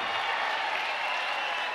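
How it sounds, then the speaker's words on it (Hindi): Spectators at a cricket final in Thane break into loud, continuous applause, a thick wash of many hands clapping together without pause across the stands. "मैं दर्शकों को विनती कर रहा हूं, ये मुकाबला आपको अच्छा लगा है तो जोरदार तालियों की आवाज आनी चाहिए"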